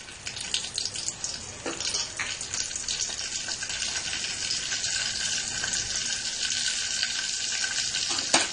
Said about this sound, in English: So to this first I am going to add this cumin and mustard seeds.